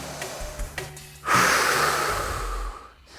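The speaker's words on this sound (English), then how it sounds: "you can hear I'm breathing really heavily" A person breathes heavily after a round of a beginner bodyweight workout, with a few short sniffs and then a long, loud, breathy exhale close to the ear.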